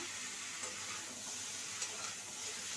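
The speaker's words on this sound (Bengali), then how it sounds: "এবার কিন্তু আমি জিরে বাটাটা দিয়ে দিচ্ছি" Ridge gourd and potato frying in a pan as cumin paste goes in, a faint continuous sizzling hiss with soft stirring, quiet and even throughout.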